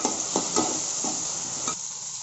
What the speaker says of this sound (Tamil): நல்லா அதை கிண்டிவிடணும்.